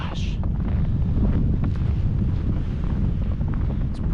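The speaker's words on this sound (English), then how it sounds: "when the wind blows" Strong, steady wind in a winter storm roars across an open mountain hiking trail, a loud continuous buffeting rush that fills the whole stretch with no pauses.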